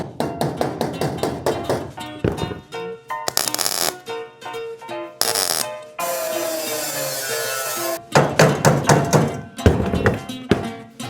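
Sharp, rapid hammer blows strike a metal car hood panel for a custom GT40 in quick bursts, with pauses and a stretch of scraping between the clusters of impacts.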